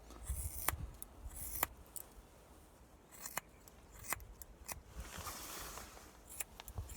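Scissors snip through hair close up during a self-cut at home, quiet crisp clicks at irregular intervals with soft rustling between them.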